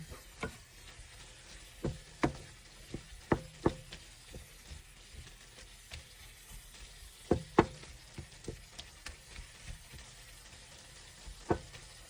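Ground beef is stirred with a utensil in a pan, giving scattered sharp scrapes and knocks against a soft, quiet sizzle, irregular and close.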